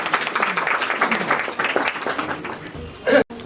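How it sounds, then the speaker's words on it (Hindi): A crowd applauds steadily to welcome a speaker at a civil-service coaching academy event, with dense clapping that fades near the end, followed by a brief loud burst and a sharp cut. "तालियों से स्वागत करें।"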